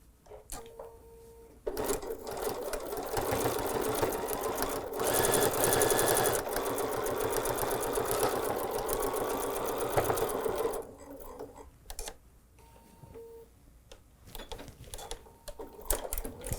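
Sewing machine stitching bias binding onto a curved fabric edge, a fast steady mechanical whir running for several seconds between shorter bursts and quiet handling clicks, heard up close and alone.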